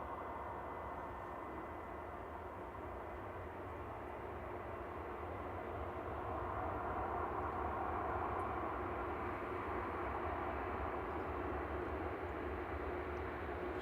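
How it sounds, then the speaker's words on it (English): An Air France Airbus A220-300 airliner arriving from Paris Charles de Gaulle at Manchester Airport, its engines giving a steady, moderate broadband roar that holds level throughout with a slight swell midway, no voices. "Air France, A220-300 FHZ UE coming in from Paris Charles de Gaulle with flight 1268."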